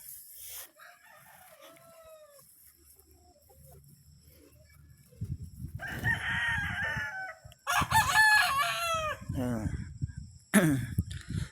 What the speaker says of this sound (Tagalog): Pag-aalaga rin ng mga panabong, mga manok